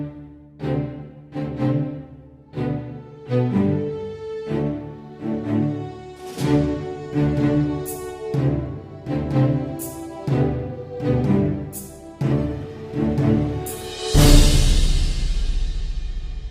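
Project SAM's Free Orchestra sample library plays a run of punchy orchestral stabs with brass and strings in a steady rhythm, loud and close, ending on a bright, sustained full-orchestra hit.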